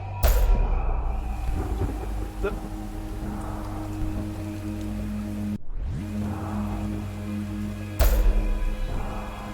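Rain falls steadily in the video game Dusk, a continuous hiss beneath occasional sharp game effects.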